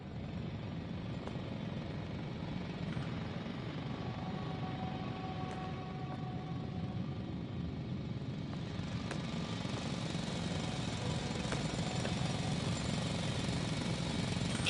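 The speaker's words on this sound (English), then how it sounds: "It's a drill!" A loud, continuous grinding drill roars without pause in the science-fiction video game The Invincible, a steady dense mechanical rumble with faint higher whines running throughout.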